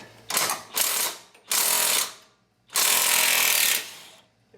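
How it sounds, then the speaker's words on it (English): Power tool, likely an impact wrench, loosening the lower control arm cam bolts on a fifth-generation Toyota 4Runner during a suspension upgrade, four loud close bursts of rattling hammering, the last the longest. "So we loosen the two side cam bolts for the lower control arm"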